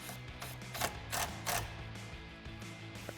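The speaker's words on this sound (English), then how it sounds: "Now we're going to bring back our T20 Torx screws." A T20 Torx bit driving screws into a Jeep Wrangler JL's Bestop soft top, giving a few short ratcheting bursts of a driver, close and fairly loud, over steady mechanical noise.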